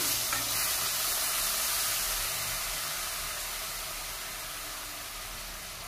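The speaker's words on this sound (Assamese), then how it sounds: "এয়া খুব ধুনীয়াকৈ উতলিছে।" A pot of singi fish curry with bor, shukloti, bhedailota and norosingho leaves boils with a steady, close bubbling hiss that slowly softens, with no voices.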